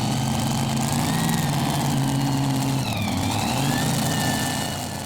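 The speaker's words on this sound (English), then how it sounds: "Two big V8 engines on the Double Screaming." Tractor-pulling vehicle powered by two big V8 engines at a Danish tractor-pull event, a continuous loud engine drone with steady low rumble and shifting tonal whine, no speech.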